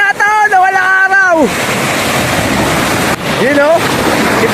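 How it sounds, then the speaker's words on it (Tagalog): Strong sea waves crash on the shore at Tangalan, Aklan, with one loud, close breaking roar in the middle and high excited voices calling out before and after it. "Ang lakas ng alon!"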